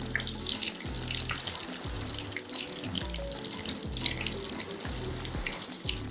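Kaari kebabs fry in hot oil with a steady, dense bubbling sizzle, close and continuous, with no talking over it.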